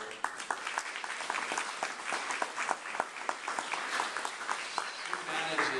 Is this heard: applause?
yes